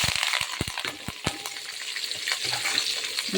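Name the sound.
curry leaves, onion and green chili frying in oil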